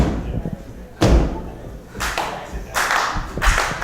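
A female wrestler is tossed to the mat by the back of her head, giving a heavy thud amid the crowd noise at a women's wrestling match, followed by further loud impacts on the mat.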